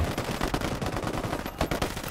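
Rapid bursts of automatic gunfire in the video game Ghost Recon Wildlands, dense and continuous with sharp repeated cracks throughout.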